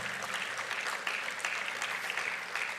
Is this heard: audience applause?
yes